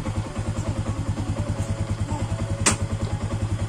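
A motorcycle engine runs steadily close by with a throbbing, regular pulse, idling after arriving, with a brief sharp click or clatter partway through.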